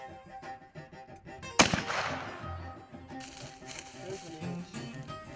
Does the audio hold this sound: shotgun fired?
yes